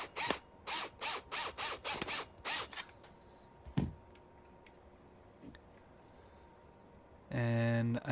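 A screwdriver or ratchet clicks in a quick rhythmic burst while screws go into a bracket on a marble clock being assembled, followed by a few sparse knocks and a short spoken phrase at the end.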